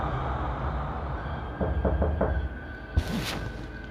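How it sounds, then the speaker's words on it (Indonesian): Knocking on a door from outside, four quick dull raps heard together with a steady low rumbling background, followed by a brief sharper noise. "Suara pintu terketuk dari luar."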